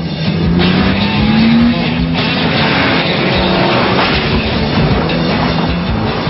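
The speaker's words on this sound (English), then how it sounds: "Fire it up and you barely hear anything inside the well-insulated cabin." A steady, loud engine drone fills a Volvo S60 cabin with low rumble and broadband road noise, continuous without any talking.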